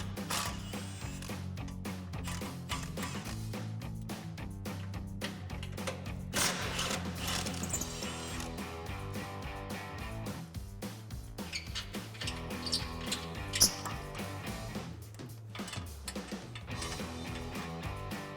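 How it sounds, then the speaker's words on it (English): A ratchet with a 10mm socket works bolts loose on a 2015-2020 Ford F-150 during a coil-over install, giving quiet repeated clicking and mechanical ticking bursts with occasional clanks, close and without talk. "we have our two 10mm bolts that we'll grab a 10mm socket to remove"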